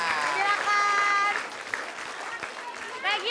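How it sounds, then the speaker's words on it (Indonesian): A studio audience at a comedy show applauds the performers, a dense, steady clatter of clapping that swells and then eases, with a few voices and cheers mixed in. "Oke, kita berikan tepuk tangan untuk Narji Kewil sama Bang Opi Kuming"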